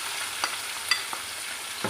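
Onions go into hot oil with fried garam masala for a beef keema with capsicum. A steady sizzle hisses throughout, broken by a few soft clinks from stirring in the pan.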